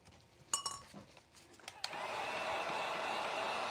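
A hair dryer blows over a freshly painted DIY reindeer ornament, starting after a few light clinks and then running as a steady, close whoosh to the end.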